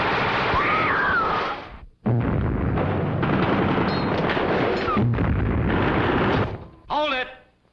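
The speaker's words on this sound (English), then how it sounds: "All right, Eddie, turn off the war." Staged war effects with artillery and gunfire for a stage magic act: loud continuous booms and rattling blasts, broken by a brief gap, with a voice exclaiming over the din near the end.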